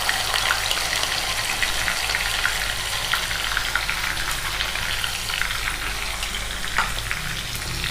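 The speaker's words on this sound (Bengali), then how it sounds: "এখানে আমি পেঁয়াজটা তেলে দিই।" Onion hitting hot oil already spiced with cinnamon and cloves, giving a loud, continuous crackling sizzle that holds steady for several seconds without any talking.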